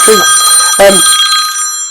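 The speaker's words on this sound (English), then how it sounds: "When my phone's going off." A mobile phone rings loudly and close by, a repeating electronic ringtone with two bursts of tone, under an otherwise quiet room.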